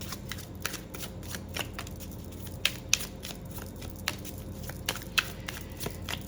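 Tarot cards are shuffled close up in quick rustling bursts with sharp snapping riffles scattered throughout, fairly quiet, with no speech.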